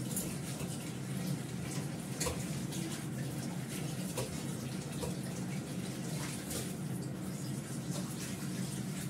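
Steady running tap water splashing over a kadai as it is washed, a continuous near rush with small clatters, no voices.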